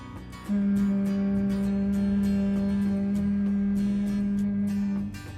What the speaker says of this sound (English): while the exhaling make a humming sound like this.